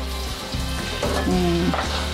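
Squid dropped into hot frying oil for a spicy sambal dish, setting off a loud, crackling sizzle that bubbles and spits steadily throughout, close up with no talk.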